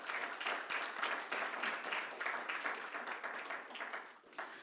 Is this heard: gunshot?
no